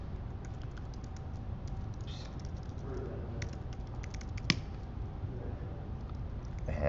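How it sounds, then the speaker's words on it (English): Typing on a computer keyboard while transferring RPM files to a virtual machine: a steady run of light, quick key clicks with one sharper tap, close and fairly quiet, with no one speaking. "So I'm going to type that in"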